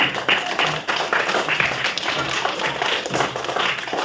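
Group of children clapping hands together in a classroom, a dense, steady patter of many small claps running throughout at close range with no voices over it.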